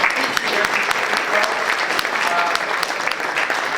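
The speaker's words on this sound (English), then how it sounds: "So let's give everyone a round of applause." Audience applause at a luncheon, a steady, loud round of clapping from a seated crowd that continues evenly throughout with no pauses.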